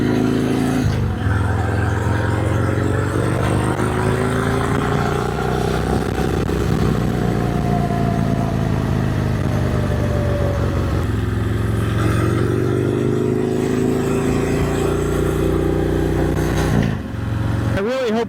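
A 1972 Harley-Davidson FLH Shovelhead motorcycle engine runs loud and close, a steady rumbling idle with slow revving swells, after being revived from a fire-damaged state.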